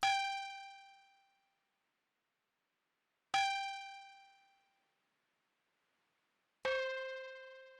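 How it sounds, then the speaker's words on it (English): Three bright, clanging synth accent one-shots for an analog-style beat, each struck sharply and left to ring out and fade, spaced about three seconds apart. "the last one shot that I used was just this accent synth again that sounds like this"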